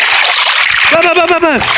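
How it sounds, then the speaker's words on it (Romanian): A person jumps into water with a bright, close splash and sloshing, followed by a voice talking loudly over the fading water sound. "Mă arunc în apă."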